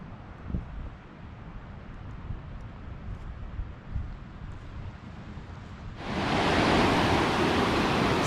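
Boise River water rushing along a mountain trail crossing in Idaho, a steady broadband roar that swells suddenly louder and closer partway through, with no voices.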